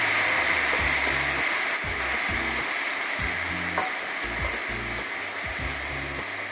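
Tomatoes dropped into softened onions frying in a pan give a continuous sizzle, with a rhythmic, pulsing background music track beneath it.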